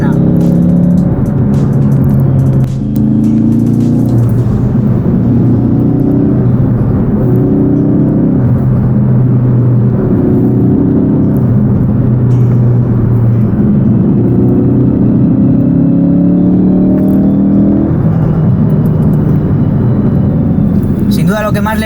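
A 2015 Ford Focus RS Mk3 with 350 horsepower drives hard on a road, its engine droning steadily from the cabin with rising and falling pitch as it accelerates through the gears, while someone talks over it throughout.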